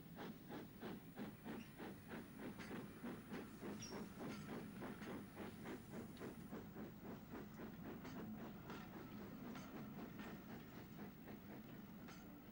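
Steam locomotive Blue Peter pulling away on a British Railways main line, with a steady rhythm of loud chuffs and clanking rail noise running close and continuous throughout, no voices.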